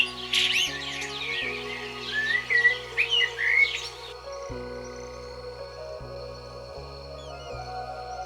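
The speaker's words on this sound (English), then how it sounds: "Ground-dwelling birds experience the savannah from beneath the level of most wings." Ground-dwelling birds on the African savannah give a burst of bright chirps and twittering calls over the first few seconds, then fade, above a steady low droning tone.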